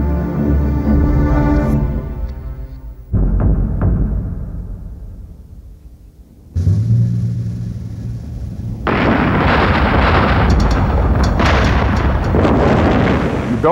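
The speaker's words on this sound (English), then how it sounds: "For a fiery explosion, mortars with gasoline were set directly behind every window." Fiery building explosion set off by gasoline-filled mortars placed behind every window, rendered as layered booms and broad roaring blasts that surge in separate waves, loud and close with no voices.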